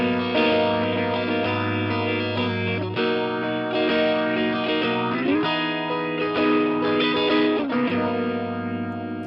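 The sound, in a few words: electric guitar phaser effect through Line 6 Catalyst amp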